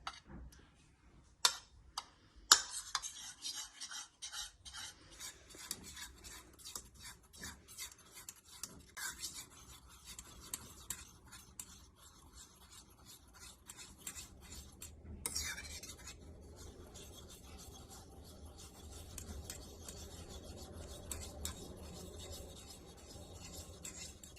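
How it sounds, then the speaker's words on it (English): Eggs being beaten lightly for pancake batter, a fork or whisk ticking and scraping in a steady, fast rhythm against the bowl, close and fairly quiet, with no talking. "Now it's time to beat the eggs lightly."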